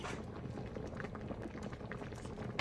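Seafood okra soup boils in a pot, giving a faint, steady bubbling and popping texture with small irregular blips throughout.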